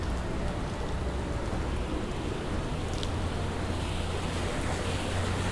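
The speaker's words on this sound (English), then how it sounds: "just think about what's in this water right now that's flowing" Floodwater rushes down a Skid Row street in Los Angeles as Tropical Storm Hilary arrives, a steady broadband roar of flowing water with rain, constant and fairly close, with no voices.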